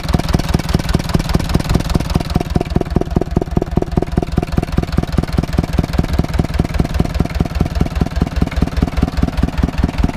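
A Ursus C 325 tractor engine idles steadily and close up, its low, even chugging beat repeating rhythmically throughout with no talk over it.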